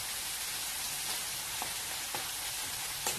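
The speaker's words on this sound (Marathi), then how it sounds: "मसाला चांगला तेलामध्ये भाजून घ्यायचा" Masala spices roast in hot oil for a soybean curry, giving a steady, dense sizzling hiss with a few faint pops, close and continuous throughout.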